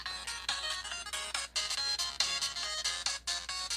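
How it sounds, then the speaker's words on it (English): Bright, tinny music with a steady pulsing beat plays through a small speaker, thin and lacking bass, fairly loud and close. "The speaker at the bottom here does put out some good music, or some good sound."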